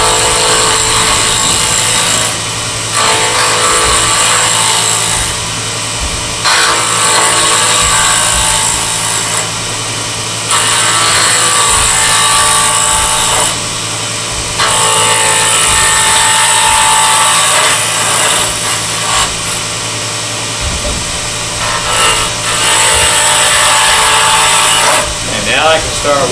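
Wood lathe spinning a workpiece while a tool forms a tenon down to 1.25 inches diameter near the spindle, a steady motor drone with repeated bursts of scraping cutting noise, close by, with someone talking over it.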